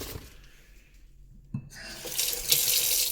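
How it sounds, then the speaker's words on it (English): Tap water runs into a pot of bones for bone broth, starting faint and splashy, then growing into a steady, louder hiss of filling water toward the end. "I'm going to cover this with water"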